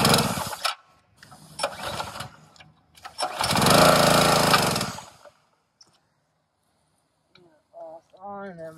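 Gas engine of an airless paint sprayer, used for painting an old weathered barn, pulled to start: several short sputtering bursts, then a loud roaring run for about two seconds before cutting out, followed by brief talk.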